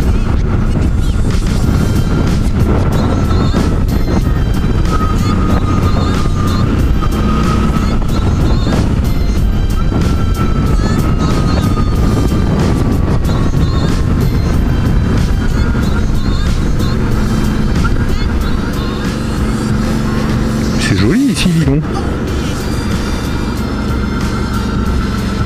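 A Suzuki V-Strom 650 motorcycle ridden on a country road with the helmet visor open, loud engine drone mixed with heavy rushing wind noise at the microphone throughout, steady and close.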